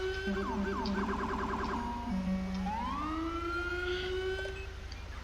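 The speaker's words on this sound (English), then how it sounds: "The alarm works." A police car siren in Grand Theft Auto V with the LSPDFR mod, wailing and yelping in rising and falling sweeps, loud and clear over a low engine hum.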